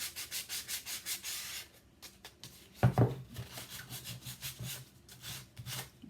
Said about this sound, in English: you sand the areas that would get the most use, which would be the edges and the corners mostly